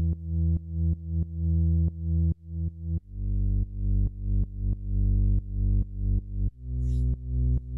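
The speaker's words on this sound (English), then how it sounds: "So the bass sounds like this." Synth bass line of deep sustained notes with rhythmic retriggering and pumping swells, playing alone in a repeating pattern that steps to a new pitch partway through.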